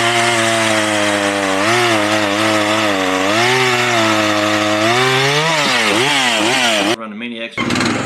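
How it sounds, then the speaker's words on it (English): A chainsaw runs loud and close, its engine pitch rising and falling as the throttle changes, then cutting off abruptly near the end. "Run the chainsaws."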